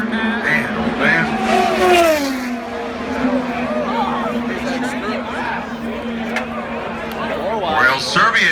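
IndyCar race cars at the Indy 500 scream past in a pack, their engine whines sweeping down in pitch as they pass, under excited commentary and crowd noise.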